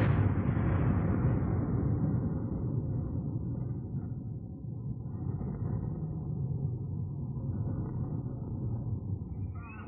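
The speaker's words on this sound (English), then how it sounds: "there was a massive explosion" A massive explosion rumbles as a deep, sustained low roar that starts loud and slowly fades over several seconds, with no voices present.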